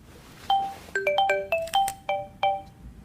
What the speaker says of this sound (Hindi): मेरा फोन आ रहा है।